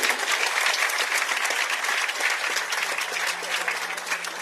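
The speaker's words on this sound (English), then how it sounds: "can you please clap for the UK government and say FCDO?" Audience applause at a launch event for solar-powered plants for government hospitals, strong, dense clapping that holds steady and eases slightly toward the end.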